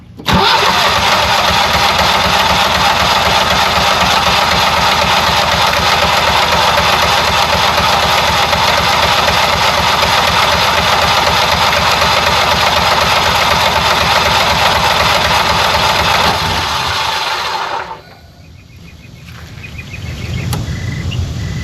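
A Generac standby generator engine, just fitted with a replacement mixer assembly, cranks and catches, then runs loud and steady for about seventeen seconds before abruptly cutting out to near quiet.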